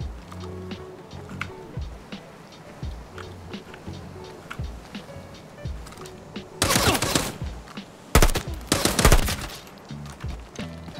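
Gunfire during a raid in a video game: scattered single shots throughout, then two loud dense bursts of rapid fire near the end.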